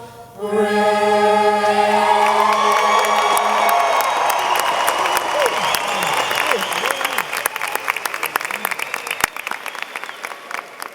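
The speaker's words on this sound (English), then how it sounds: "can we get another round of applause for our Stevenson Band under the direction of Mr. Michael Sekage and our Stevenson Choir" At a 2016 Stevenson High School graduation, the audience bursts into loud applause and cheering with whoops for the school band and choir after the anthem, as the last sung and sustained notes fade under the clapping, which thins toward the end.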